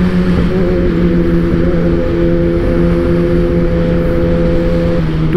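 Kawasaki ZX-10R superbike engine idling steadily up close, a loud constant rumble with a strong low hum that holds unchanged throughout, with no voices.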